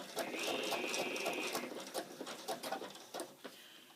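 A sewing machine runs a zigzag stitch on yellow loop trim, a steady close whirring and rapid needle patter that slows into a few separate stitches near the end.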